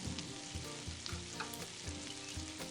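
Vegetables sauté in a pan for a lasagne filling, a dense nearby sizzle with rhythmic scraping stirs about every half second and no talking.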